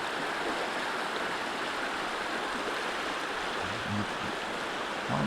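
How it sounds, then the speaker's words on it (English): A creek flowing through a rapids stretch near Folsom Lake in the rain, a steady broadband rush of water holding level throughout, close and continuous with no voices. "Creek runs real nice right through here."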